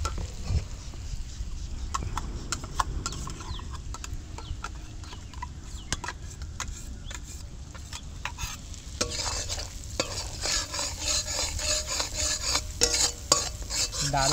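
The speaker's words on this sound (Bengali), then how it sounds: "এবার যে পোস্ত সর্ষে বেটে রেখেছি এটা দিয়ে দেবো।" Ground poppy seed and mustard paste fries with eggplant in a pan, a constant sizzle broken by rapid scraping strokes of a spoon as the mixture is stirred, growing brighter and busier toward the end.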